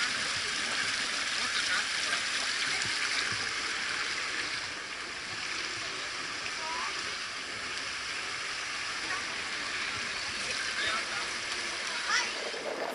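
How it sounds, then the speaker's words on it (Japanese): Hot spring water gushes beside a flowing river at Onikobe Jigokudani, a continuous broad rush of running, splashing water that stays steady and fairly close throughout. "吹き出す熱湯と、その横を流れる川の水が相まって"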